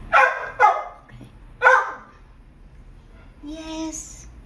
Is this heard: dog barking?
yes